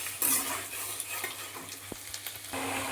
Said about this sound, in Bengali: আলুটাকে একটু ভাজা ভাজা করে তারপরে আমি শাপলাটা দেবো ওর মধ্যে